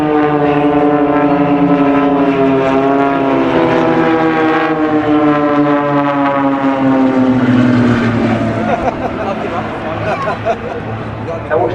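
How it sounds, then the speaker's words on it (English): The Blades aerobatic team's propeller aircraft roar past at the Farnborough International Airshow 2012, a loud droning engine note that slides downward in pitch as the planes pass, with an announcer talking over it throughout. "Now watch the middle 2 aircraft, they're going to pull up, they're going to fly away."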